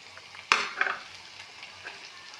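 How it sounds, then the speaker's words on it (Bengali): A sudden loud sizzle as chopped tomato and capsicum hit hot oil in a pan over already-fried chopped onion, fading into a steady crackle of frying. "পেঁয়াজটা ভাজা হয়েছে, এবার টমেটো কুচি, ক্যাপসিকাম কুচি দিয়ে দিলাম"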